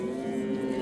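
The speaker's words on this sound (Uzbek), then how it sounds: "Zo'r sigirlar." A cow at a cattle market lets out one short, close moo, a low droning call heard on its own.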